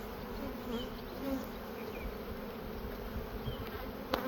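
Honeybees buzz steadily around an open hive during a spring split of full-size colonies, a dense continuous drone close by with no talking.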